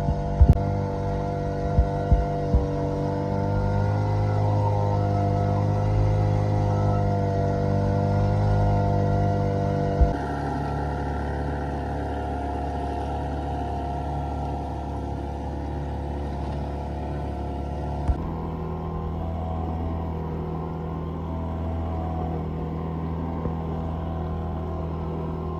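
An outboard engine drives a 23ft trailer sailer boat through turbulent water, a steady low droning hum with throbbing tones that shifts level twice as the throttle changes, continuous and close, with no talk.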